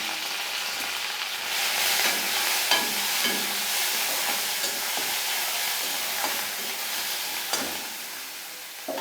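A blended spice paste for a Bengali puti fish jhal hits a hot pan with chopped garlic and bursts into a loud, hissing sizzle. Stirring knocks and scrapes sound through the sizzle as the frying settles.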